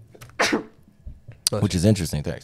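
A man sneezes sharply once in a casual, relaxed conversation between friends, a short burst that stands out clearly before talking picks up again right after it.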